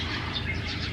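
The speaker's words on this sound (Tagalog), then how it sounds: "Yung huni ng ibon." Birds singing at sunrise in a quiet rural part of Batangas, a steady wash of chirps and tweets blending into a continuous, moderately loud dawn chorus with no talking.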